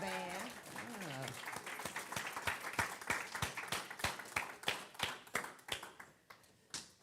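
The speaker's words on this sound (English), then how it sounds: "Can we give the band another round of applause, the choir and the band?" A congregation claps for the band and choir at a Sunday celebration service. A voice speaks briefly at the start, then sharp individual claps ring out and gradually thin and fade.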